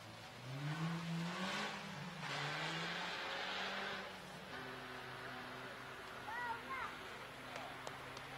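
Race cars revving on the starting line at the 2015 Za Rulem Race of Stars, engines droning and rising in pitch under steady talk from a commentator, with crowd ambience in the background.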